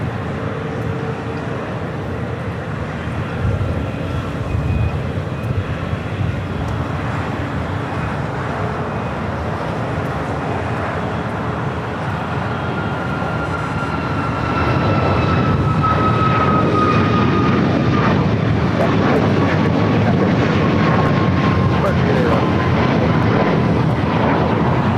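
A Delta airliner taking off from runway 25 right at LAX: a loud, continuous jet roar that swells and grows heavier partway through, with a rising whine, and no voices.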